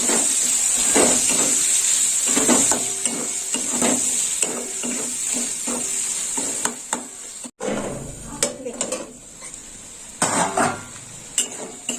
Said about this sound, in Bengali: পেঁয়াজটা একটু লাল লাল করে ভাজা হয়ে গেছে।